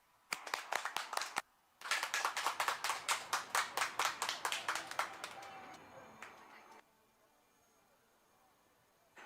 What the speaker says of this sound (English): Big round of applause to you, please.